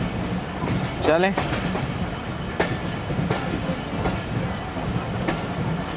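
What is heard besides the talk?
Ghouri Express train moving, Faisalabad to Lahore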